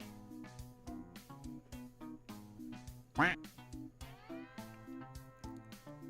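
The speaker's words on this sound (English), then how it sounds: "Exclamation point quack. Duck in the pond." Cartoonish duck quacks in a video game, repeated over a bouncy, looping background tune, with one louder squawking call standing out midway through.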